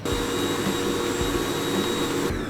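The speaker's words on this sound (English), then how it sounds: "And then just give that one last blast with the mixer, and then it's good to go." An electric mixer blends chocolate orange cupcake batter with a loud, steady whirring drone that holds for about two seconds before cutting off.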